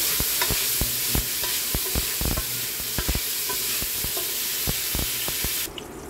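Eight sausages sizzle steadily in a frying pan, with frequent sharp pops and clicks of stirring over a continuous close hiss that cuts off abruptly near the end.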